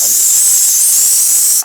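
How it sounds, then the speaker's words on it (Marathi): A pressure cooker with chicken dum biryani vents steam after its whistles, a loud, steady, close hiss that holds and then cuts off abruptly. "तर मित्रांनो थोडं वाफ जाऊन देऊ"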